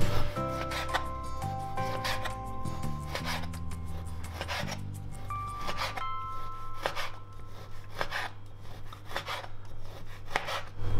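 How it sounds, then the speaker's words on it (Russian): A knife slices sausage into rings on a cutting board, giving a run of close, crisp chopping strokes in an uneven rhythm over a low background hum, with no talk. "Колбасу будем резать на соломку, но для начала я порежу на колечки."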